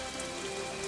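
Steady rain falls and patters on surfaces, a dense, even hiss that stays constant throughout with no voices.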